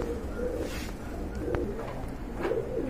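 Lahori pigeons cooing in a loft, soft low repeated coos close by over a faint background hum.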